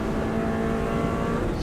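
A 2018 Subaru Impreza engine pulls hard at full throttle on a road course, a loud, steady, close-up roar with a constant engine drone throughout.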